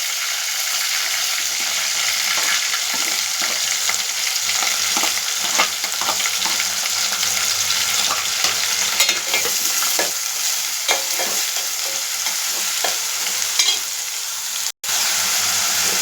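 Onions, coriander and mint frying in hot oil with spices, stirred steadily in a pan: a continuous bright sizzle with scraping spoon strokes throughout, close and fairly loud, no voices.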